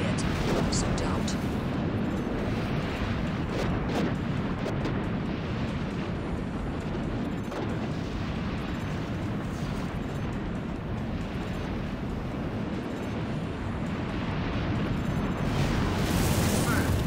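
Explosions and weapon fire in a video game battle against the giant arms fort Stigro, a continuous roaring wall of blasts, booms and rumble lasting throughout, loud and dense with a voice talking over parts of it.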